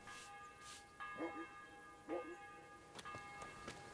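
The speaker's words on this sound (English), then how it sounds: "Church is right now ringing bell." Church bell tolling in the medieval video game Kingdom Come, a few faint, evenly spaced strokes ringing out over quiet ambient background.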